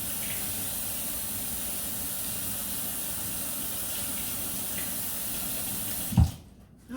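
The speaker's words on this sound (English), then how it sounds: "Let me rinse my hands off" Kitchen tap running steadily as hands are rinsed under it, a continuous close hiss of water that cuts off abruptly near the end.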